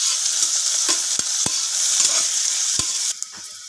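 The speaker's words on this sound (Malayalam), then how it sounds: "സവോള ബ്രൗൺ കളർ കിട്ടുന്നത് വരെ നമുക്ക് ഇളക്കി കൊടുത്തുകൊണ്ടേയിരിക്കാം" Sliced onions frying in oil while being stirred until browned for tomato rice, a loud close hiss of sizzling broken by several sharp spoon knocks against the pan, the sizzle dropping suddenly near the end.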